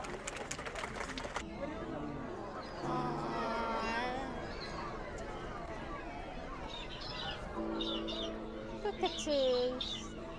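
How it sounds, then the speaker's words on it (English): Cockatoos at a zoo bird show give scratchy, chattering calls and squawks at moderate distance, mixed with crowd murmur and voices. "Cockatoos."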